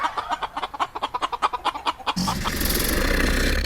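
Chickens clucking in a quick series of short, close, bright clucks that give way to a denser, louder burst of farmyard fowl noise.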